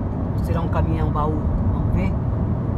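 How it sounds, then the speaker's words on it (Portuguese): Box truck passing on a highway between Assis and Paraguaçu Paulista, a steady broad road roar under a voice talking throughout. "Caminhão baú,"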